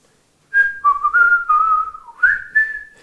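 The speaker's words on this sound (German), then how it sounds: "Pfeift das nächste Mal folgende Melodie." A short whistled melody, clear and close, with a handful of gliding notes rising and falling over about two and a half seconds.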